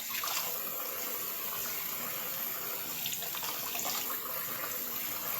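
Water rushing and gurgling down a bathtub drain just cleared of a large hair clog, a steady continuous wash of noise, close and even, no voices.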